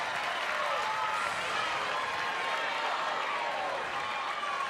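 Softball stadium crowd at an NCAA game between Alabama and Missouri cheering and clapping after a headlong dive into third base, a steady loud roar of voices and applause throughout with commentary talk over it.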